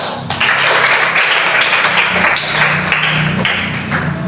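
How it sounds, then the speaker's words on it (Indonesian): A classroom group claps, a dense burst of hand clapping that carries on steadily for several seconds, close and loud, with no voices over it. "Oke, tepuk tangan."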